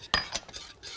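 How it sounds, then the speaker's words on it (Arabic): Spoon stirring mint into a yogurt kishk mixture with meat in a metal pot, a few quick scraping clinks close by, faint and irregular. "ونقلب كده كويس."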